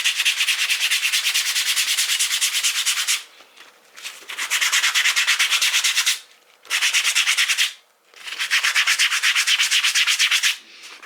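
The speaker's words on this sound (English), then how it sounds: "we're going to rough it up with some sandpaper" Sandpaper roughing up a glossy book cover, fast rhythmic scratchy rubbing strokes in four close, loud bursts separated by brief pauses, with no talk.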